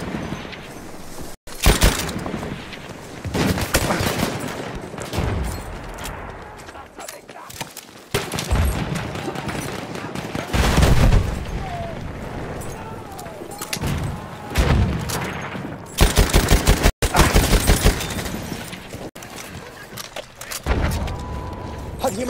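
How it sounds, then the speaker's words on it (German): A grenade blast and bursts of gunfire in the video game Battlefield 1, with repeated loud explosions and rattling rifle fire in waves across a chaotic battlefield, and voices calling out between volleys. "Vorsicht, ich werfe Granate!"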